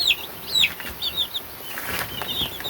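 Young chicks about three months old peep in a run of high, repeated chirps that come and go in short bursts, with some rustling and light movement beneath.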